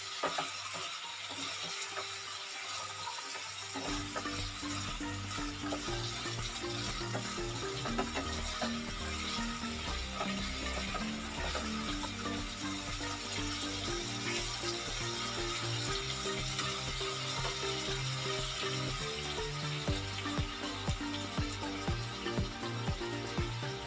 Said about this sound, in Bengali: এটাকে হাই ফ্লেমে ভালো করে কষাতে হবে।